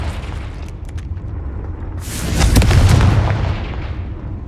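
A Confringo fire spell in Hogwarts Legacy bursts into a loud, rumbling explosion after a few seconds of lower background noise, swelling and then slowly fading.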